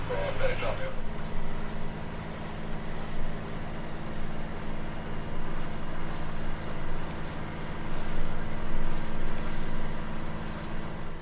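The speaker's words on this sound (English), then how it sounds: "the engine is back on, as you can probably hear" A sailboat's engine drones steadily with a low, constant hum, with people talking over it.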